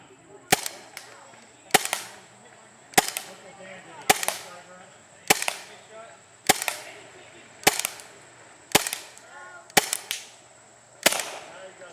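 Tiberius T9 paintball marker feeding from its magazine, running on a remote line and firing at a steady 275 fps: ten sharp, loud pops at an even rhythm about a second apart, each with a short ringing tail.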